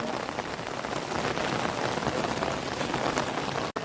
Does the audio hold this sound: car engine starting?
no